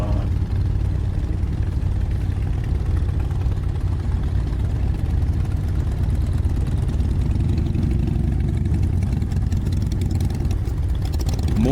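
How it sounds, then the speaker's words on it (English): Low, steady rumble of several motorcycle engines idling nearby, a continuous mechanical drone with slight fluctuations and a faint rise toward the end. "we have a few motorcycles here"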